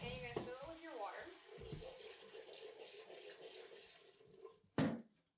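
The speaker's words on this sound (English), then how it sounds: "you're gonna fill it with your water" Tap water runs steadily into an Instant Pot with rice, a continuous splashing rush that ends with a brief louder burst, while a person talks over it.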